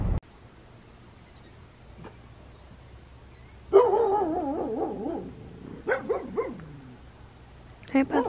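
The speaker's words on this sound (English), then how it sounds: "Dogs are barking." Dogs bark at a family home in short, harmonic bursts of several yaps and barks, fairly close and loud, with quieter stretches of room noise and a voice speaking between them.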